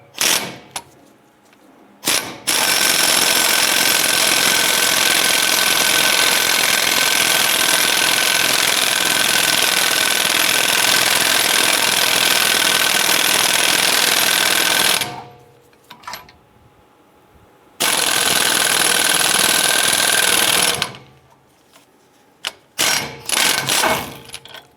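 A 3/4 inch socket on a powered tool tightens a rear axle hub stud on a 2002-2008 Dodge Ram 1500. It hammers loudly and nonstop for about thirteen seconds, then fires shorter rattling bursts after a brief pause.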